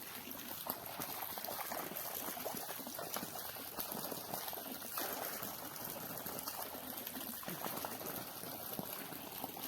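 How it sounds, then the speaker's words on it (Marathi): Faint, continuous trickling of flowing water at a fishing spot near Alibag, an even soft wash with no other clear sounds. "पाणी वाहते ते बघू"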